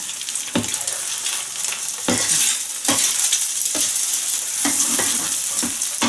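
A Thai fried mussel pancake sizzles and crackles in plenty of hot oil, a loud continuous frying hiss broken by repeated scraping and stirring clicks of a utensil against the pan.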